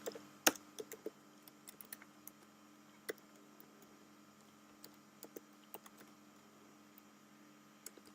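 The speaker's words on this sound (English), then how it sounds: "what's wrong with my typing today?" Sparse keystrokes tap on a computer keyboard, quiet and close, with irregular pauses between bursts and a soft hum underneath.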